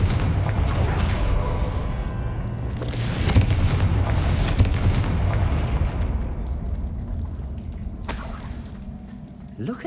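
Confringo blasting spell exploding in the game Hogwarts Legacy, a series of loud rumbling bursts and crackling impacts that roll on for several seconds before fading into a quieter low drone, with a sharp pop near the end.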